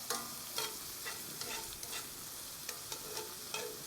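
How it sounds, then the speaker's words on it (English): Tomatoes frying in a pan over a campfire for paella, a continuous soft sizzle with regular stirring scrapes every half second or so, close and fairly quiet, no voices. "we just want a bit of that, the juices out to fry out of the tomato before we chuck the rice in"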